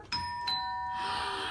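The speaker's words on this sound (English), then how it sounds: "Okay, videoing, seeing if the doorbell works." A doorbell rings with two clear electronic chime tones, one after the other, that ring out and linger in a quiet room.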